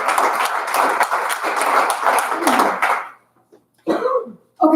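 Applause at a school board meeting: a crowd claps steadily and fairly loudly for about three seconds before it dies away, followed by a short quiet gap and then a voice speaking.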